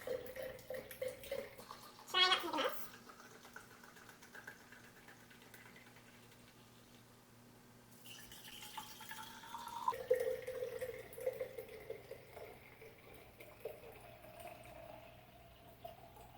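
Thick homemade soy yogurt is poured into clean glass mason jars, giving soft glugging, splashing and dripping in several bursts with quiet gaps between, no talk.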